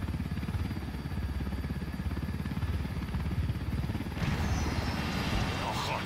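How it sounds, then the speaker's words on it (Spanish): A helicopter in the tactical shooter Ghost Recon Wildlands throbs with a continuous low rotor chop, fairly close and steady, rising slightly near the end. "El helicóptero salió volando"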